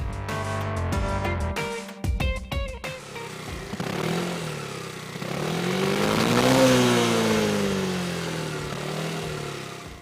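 An MBK Evolis 250 / Yamaha XMAX 250 scooter's original Minarelli 250cc engine, about twenty horsepower, revs up and accelerates, its pitch rising and falling steadily, after a brief clattering start.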